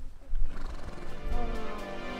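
Altitude horses near an active volcano outside Quito, Ecuador give a loud, close neigh, its whinny rising and trailing off as faint hoof sounds and breathy noise continue around it.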